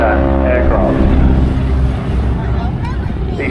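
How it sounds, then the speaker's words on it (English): Stearman biplanes re-engined with 450-horsepower Pratt & Whitney 985 radial engines pass at an air show, a steady loud engine drone that eases slightly midway, with people talking over it. "These Stearmans, not your average Stearman, however, they've been operated with the addition of the Pratt & Whitney 985 engine, that's 450 horsepower"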